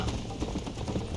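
Horse galloping in the Red Dead Redemption video game, a brief burst of close, rapid hoof thuds in a continuous rolling rhythm with no speech over it.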